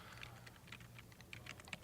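Rapid clicking of computer keyboard keys typed in an irregular rhythm, fairly quiet against a low steady hum, with no voices.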